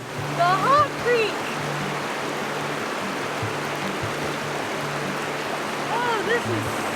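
Steady flowing water of Hot Creek, a shallow hot spring stream in a forest, rushing continuously and fairly close, with birdsong above it and a low hum and voice-like tones underneath.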